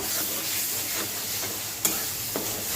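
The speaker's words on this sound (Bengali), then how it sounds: "এখানে মশলাগুলো কষায় নিতেছি" Spices frying in oil with green chili and garlic paste, a steady close sizzle with soft stirring scrapes and a couple of sharp utensil taps near the end.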